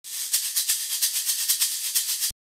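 A shaker being shaken in a quick steady rhythm, about a dozen bright hissy pulses of rattling noise, close and fairly loud, stopping abruptly.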